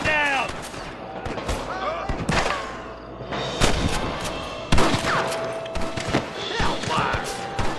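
Gunfire in the Red Dead Redemption video game, a dense run of sharp shots and bursts scattered through a busy shootout, with voices calling out over the fighting.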